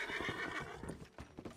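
Horse neighs and whinnies in the Red Dead Online video game, mixed with clip-clop hoofbeats and busy background sound, loud and close throughout a short burst.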